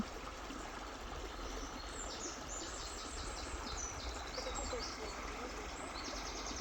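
Water from a stream in the French countryside runs steadily, a soft even rush heard at a distance, with faint bird chirps high above it and no talk.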